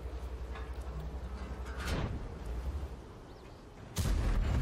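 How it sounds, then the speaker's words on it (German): A tank's ammo rack blowing up in World of Tanks, with heavy booming blasts: one mid-clip and a sharper, louder detonation near the end over a low rumbling engine background. "und das Munitionslager ist da weg"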